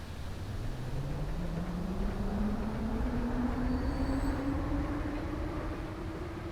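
A train in the video game Transport Fever 2 pulls away from a stop, its engine tone rising steadily in pitch as it accelerates, rumbling and clear with no talk over it.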